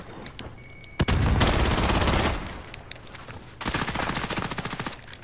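Sustained automatic gunfire from a Tec 9 in Warzone, two loud dense bursts of rapid shots, one from about one to two and a half seconds and another later, with quieter game ambience between.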